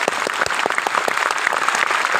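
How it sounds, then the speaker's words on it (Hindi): A seminar audience in Lucknow claps loudly and energetically, dense overlapping hand claps from a large room crowd with close, distinct individual claps standing out through the brief burst. "एक बार मेरे माँ बाप के लिए जोरदार तालियां बजाई।"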